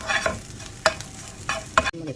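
Prawns fry in a pan while a spoon stirs them in four quick scraping strokes over a soft sizzle, all close and without any talking.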